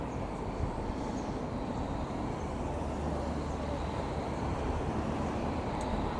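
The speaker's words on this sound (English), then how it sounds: "And hidden in the gloom there is a train." A train passes in the gloom as a steady low rumble and rolling noise, moderately distant and constant, with no clear voices over it.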